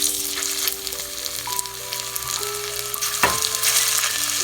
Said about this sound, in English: next we need to sear the marinated beef